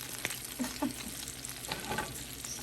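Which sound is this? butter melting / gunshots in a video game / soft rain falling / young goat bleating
butter melting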